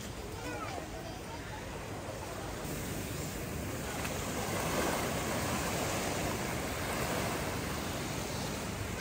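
Sea waves washing onto a beach at a resort in Morong, Bataan, a steady broad roar of surf with no distinct breaks, heard up close.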